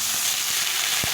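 Loud, steady sizzling of drumstick stems and pointed gourd frying in oil with potatoes in a pan, a continuous hiss broken by a few soft knocks of the stirring spoon.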